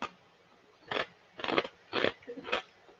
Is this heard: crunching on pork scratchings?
yes